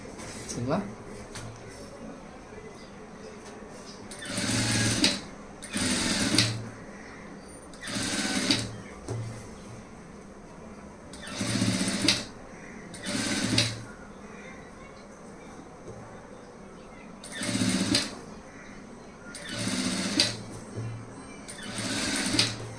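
A sewing machine stitches thread piping onto fabric in short repeated bursts of rapid whirring, each run lasting about a second, separated by pauses, with someone talking quietly between runs.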